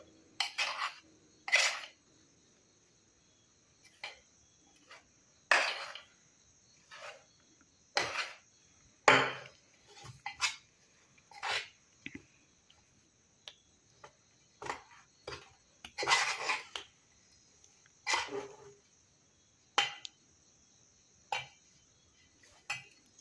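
Spoon knocking and scraping in a bowl while mixing batter for pakoda-style Manchurian, giving scattered, irregular clinks and taps at close range against a quiet background.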